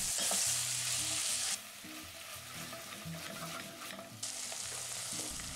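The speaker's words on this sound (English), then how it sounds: "Now you can add the meat to the pan. Make sure you get any meat juices too. Now give that a good mix." Meat with its juices frying in a hot pan for a pie filling, a steady loud sizzle with scraping stirring sounds, no talking.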